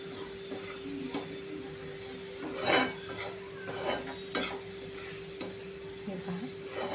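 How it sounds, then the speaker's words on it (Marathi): Spring onion greens being sautéed in a pan for zunka, with a few brief stirring scrapes and clinks over a faint steady sizzle and a constant background hum. "आणि ही भाजी छान अशी परतून घ्यायची आहे आपल्याला।"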